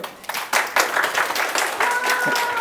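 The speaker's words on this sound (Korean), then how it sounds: "네, 박수로 맞이해주세요" An audience claps to welcome a lecturer at a science talk on earthquake-resistant structures in Daejeon, a steady wash of applause with irregular louder bursts.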